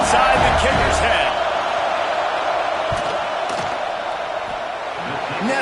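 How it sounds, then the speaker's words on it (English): Football stadium crowd roaring during a field goal attempt, a dense, continuous wash of cheering and noise with a few sharp bangs, while a voice talks over it. "This crowd trying to do its part to get inside the kicker's head."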